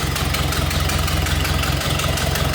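A 1931 Ford Model A 5-window coupe's L-head 201 engine idles smoothly and steadily close by, a loud, even mechanical chugging with a faint regular knock.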